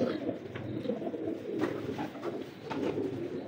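Pigeons cooing in a loft among other birds, soft low murmuring coos running continuously, fairly faint, against a steady background hum with small rustles.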